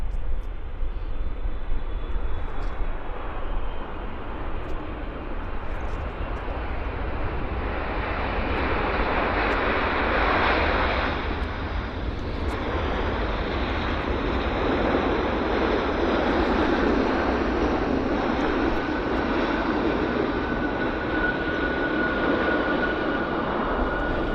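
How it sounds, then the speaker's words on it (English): An Air India airliner in a special livery landing at Vancouver Airport, a steady broad engine roar heard from a distance that swells and fades slightly as the jet touches down and rolls out, with no talking. "Really nice landing by Air India."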